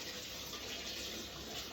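Warm water running from a kitchen tap while making pizza dough, a soft continuous hiss of flowing water, faint and steady throughout.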